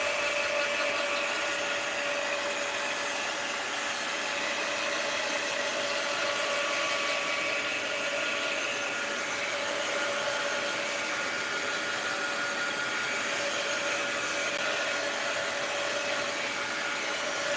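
A hair dryer blows steadily to dry paint on a page of a mixed-media art journal, giving a continuous close whir with a faint tonal hum that runs without a break and with no talk.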